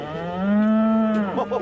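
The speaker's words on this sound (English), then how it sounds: "Oh, it was a cow that went moo, Bungle." A cow gives a single long, loud, close moo with a rising, sustained tone that breaks into a rougher ending, with no other sounds over it.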